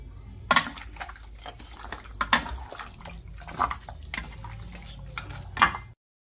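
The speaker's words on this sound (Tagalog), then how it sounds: "At mix po natin siya para sa sangkotsa po." Garlic and onion are stirred in a pan to sauté for Kapampangan pork caldereta, with a few sharp utensil clinks against the pan over a soft, wet sizzle, fairly close and without talk.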